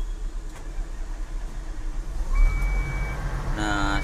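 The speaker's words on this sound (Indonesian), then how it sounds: "setelah kita nyalakan mesin ya" A large stationary engine turning over and settling into a steady low rumble, fairly close, with a steady tone rising over it and a brief beep-like chime near the end.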